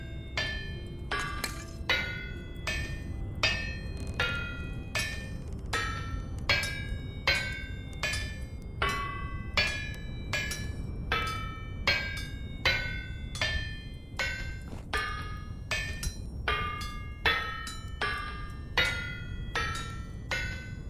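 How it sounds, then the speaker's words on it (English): Metallic hammer strikes on a hot iron bloom at an anvil in the Vintage Story game, about two dozen ringing clinks in a steady, evenly spaced rhythm over a low background hum, close and clear with no talking. "hammer those out while they're hot"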